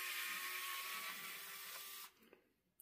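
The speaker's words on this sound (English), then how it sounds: "I'm going to go ahead and reverse these screws out or fasteners." A small electric screwdriver whirs steadily as it backs screws out of an HP Spectre x360 laptop during a battery replacement, then stops abruptly and leaves a few faint clicks.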